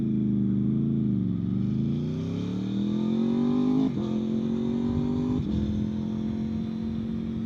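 An MV Agusta V4 motorcycle's engine pulls steadily and loud, rising in pitch, with two quick crisp upshifts from the quick shifter that drop the revs briefly before it climbs again.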